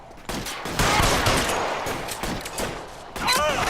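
Bursts of gunfire from the L.A. Noire video game rattle in a dense, continuous fusillade, with a voice talking briefly near the end.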